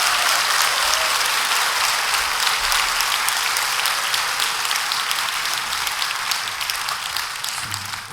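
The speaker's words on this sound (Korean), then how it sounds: "우리 목사님 부부를 맞이할 때 뜨겁게 환영으로 박수해 주시기 바랍니다" A church congregation gives a long, dense round of applause welcoming a pastor couple at a founding worship service, with steady clapping throughout that tapers slightly toward the end.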